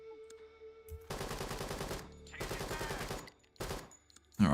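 Video-game gunfire during blind fire in a shootout, several bursts of rapid automatic shots in close succession with short pauses between, loud and near, without talk.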